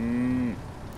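A cow in the farming game Professional Farmer 2017 gives one loud, close moo lasting about half a second, followed by low background noise.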